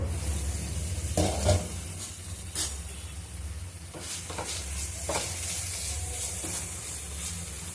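Ridge gourd chutney ingredients with tamarind and coriander sizzle steadily in a pan, close and continuous, broken by several sharp scraping stirs of a utensil.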